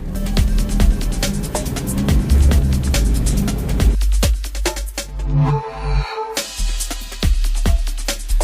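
A brown Tata Zica hatchback's diesel engine runs steadily and fairly loud up close, a continuous low rumble with clattery texture throughout, shifting slightly in tone midway.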